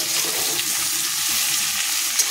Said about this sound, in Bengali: তো তার জন্য চিংড়ি মাছ ভেজে নিচ্ছি